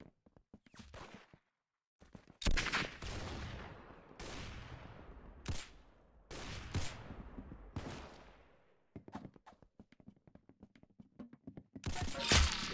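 Rapid bursts of gunfire from the Roblox shooter game Arsenal, with sharp repeated shots and fast volleys spread across the stretch, loud and close, separated by short pauses and no talking.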